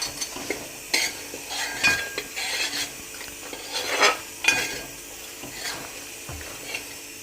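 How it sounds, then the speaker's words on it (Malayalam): Pickle cooking in a pan after chilli powder is stirred in, with a soft continuous sizzle under intermittent scraping and stirring strokes of a utensil against the pan, close by and moderately loud. "ഒഴുകി കിടക്കുന്ന അച്ചാറിൽ മുളക് പൊടി ചേർത്ത് കൊടുത്തു. അതൊന്ന് ചെറുതായിട്ടൊന്ന് മൂത്ത് വരട്ടെ."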